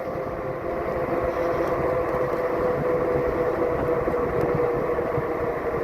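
A train passes at night in suburban Clayton County near Atlanta, a steady broad rumble with a faint tonal hum holding for several seconds, close and fairly loud with no talk over it.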